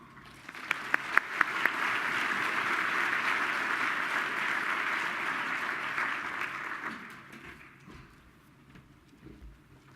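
An audience at a pediatrics conference applauds a speaker's welcome, with dense clapping that swells quickly, holds steady for several seconds and then fades out.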